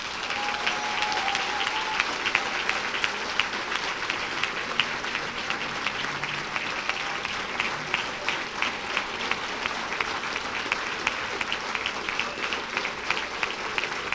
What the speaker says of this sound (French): J'aimerais ça qu'on vous donne une main d'applaudissement en fait, pour les efforts et la participation de Josiane Gagnon aux Jeux de génie